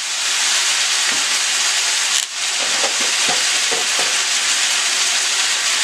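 Steady broadband sizzling of steak frying in a hot pan, continuous and close, with a few faint clinks and scrapes partway through.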